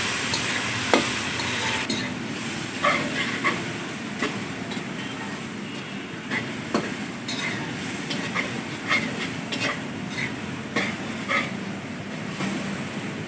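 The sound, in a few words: frying tomatoes with salt for aloo matar pulao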